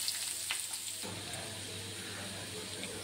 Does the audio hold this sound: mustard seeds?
yes